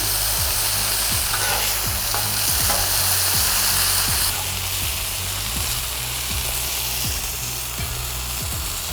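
Burger patties sizzle steadily on a hot cooking surface, a loud continuous fry with repeated scraping clicks as the spatula flips them over, with no talking.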